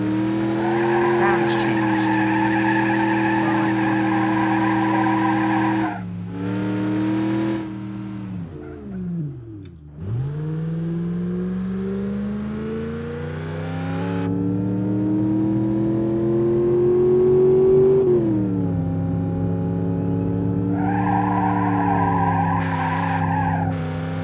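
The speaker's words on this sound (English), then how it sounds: "sounds for different vehicles" Vehicle engines in the BeamNG.Drive video game, with steady revving and a slowing pitch drop near the middle, then rising acceleration, ending with squealing tyres in a skid, loud and close throughout.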